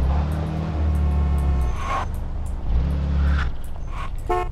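A car in the game Mafia 2 drives into a garage, its engine rumbling steadily close by, easing off, then revving again, with a few clicks and clunks near the end.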